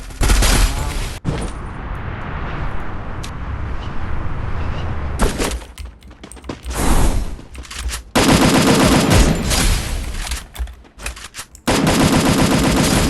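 Rapid automatic gunfire from the video game Free Fire comes in several loud, dense bursts, with brief gaps and quieter stretches between them.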